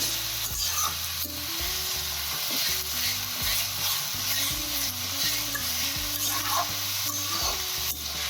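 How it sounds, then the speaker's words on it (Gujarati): Bottle gourd for halwa sautéing in a pan over high heat while being stirred continuously, heard as a steady close sizzle with repeated scraping strokes and light clinks, and no speech. "આમ સતત હલાવતા રહેવાનું છે, જેથી કરીને નીચે ના બેસી જાય."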